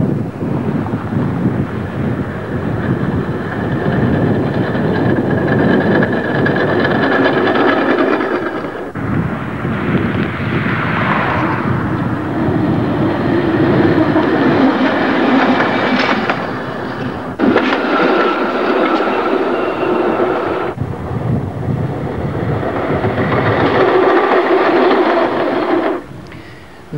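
A Toronto TTC PCC streetcar rumbling along rails on a bitterly cold day, a steady loud roar with grinding wheel noise and gusty wind buffeting the microphone throughout.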